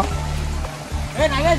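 Water from a small waterfall at Pandavula Gutta rushes in a steady, even wash throughout, and a voice speaks briefly near the end.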